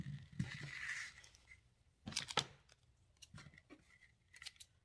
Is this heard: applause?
no